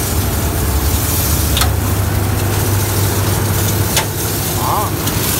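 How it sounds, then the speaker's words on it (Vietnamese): A belt-driven OK 508 car wash pressure washer runs steadily with its lid closed, a constant low, smooth mechanical hum and drone heard close up, with a couple of faint clicks and no talking. "Máy chạy rất là êm nha."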